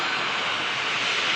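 An Aer Lingus Airbus A330 departing for New York JFK, a loud, dense jet roar filling a brief moment without a break, no voices.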